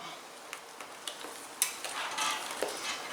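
Rib rub ingredients mixed together in a bowl, soft granular scraping and rustling strokes in an irregular rhythm, close and moderately quiet, no talking.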